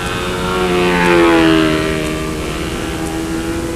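A model airplane flies inverted at a competition, its propeller engine buzzing steadily with a rising and falling pitch as it passes at moderate distance under windy outdoor noise.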